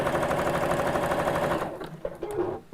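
A sewing machine stitches a dense zigzag satin stitch on a gift bag, a loud, close, rapid mechanical chatter that runs evenly and then stops, leaving a few small clicks and handling noises.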